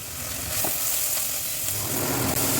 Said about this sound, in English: so I put onion and garlic together and just like sauteed them, like sweated them